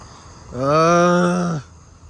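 A car passes along a road at night among calling katydids, its engine a steady humming drone that swells up loud for about a second and then cuts away, leaving the faint insect chorus.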